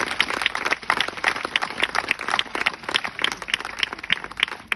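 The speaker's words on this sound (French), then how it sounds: "Vous pouvez les applaudir, s'il vous plaît," A crowd applauds steadily, many hands clapping in a dense, continuous patter with no voices over it.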